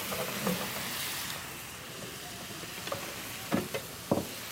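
Ground meat sizzles in a pan for cannelloni, with a steady frying hiss throughout and several scraping, pressing knocks of a wooden spoon toward the end, close and moderately loud.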